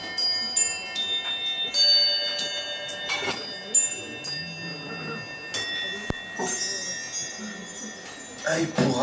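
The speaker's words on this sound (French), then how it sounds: "On va faire résonner les cloches." Bells ring during a live solo music set. Several struck tones follow each other, their bright, lingering overtones overlapping and sustaining near and fairly loud.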